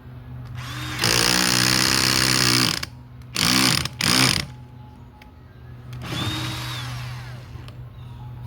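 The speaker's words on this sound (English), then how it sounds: "So, I am going to be drilling holes in that tote," A power drill whines in short bursts drilling holes in a plastic tote, one long run followed by two quick ones, with a hum underneath and a faint later spin-down.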